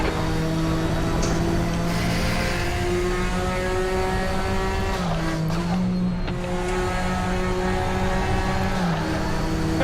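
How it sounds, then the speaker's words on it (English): Sim racing in a touring classic car at Road America, with a steady loud engine drone and a high tyre squeal rising from the front left under cornering load, continuous throughout with no talk. "Oh, I hear the front left tyre squealing."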